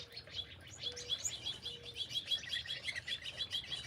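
Small birds chirp and tweet repeatedly in a bird garden, quick bright calls in a busy rhythmic chorus, fairly faint and slightly distant, with a soft background hum.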